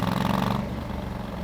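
A stock-exhaust Honda CRF 1100 motorcycle purrs as the throttle is released, a low steady burble that softens and thins out over a second and a half.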